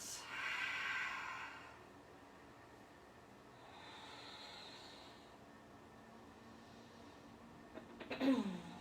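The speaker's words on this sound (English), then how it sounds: "Big, deep breaths." Two slow, deep breaths are drawn and released during a yoga power flow, faint and unhurried in a quiet room, with a brief clatter near the end.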